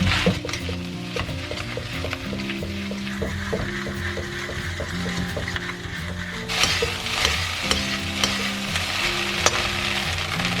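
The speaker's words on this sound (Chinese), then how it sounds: "炒米饭的话，我们就开大火啊，" Rice with dried scallops stir-fried over high heat in a wok, a steady loud sizzle with scraping and tossing, close up, under a soft background melody, no talking.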